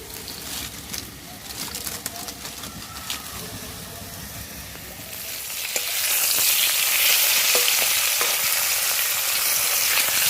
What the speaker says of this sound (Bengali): লাল লাল করে সিম ভাজা করা হয়ে গেল আমার